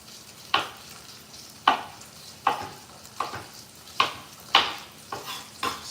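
Vegetables in hot oil in a pan sizzle in repeated bursts, each swell rising sharply and fading as the food is stirred, about once a second, close and fairly loud with no talking.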